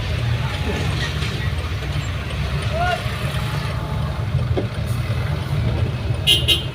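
Garbage trucks in heavy traffic: a continuous deep engine rumble and idling drone, with a few faint tonal chirps and a louder knock near the end, and voices faintly in the background.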